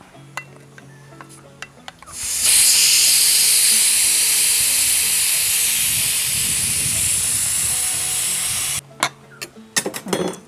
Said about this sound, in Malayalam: നമുക്ക് ഇറക്കി വെച്ചിട്ട് എയർ പെയ്യെ കളയാം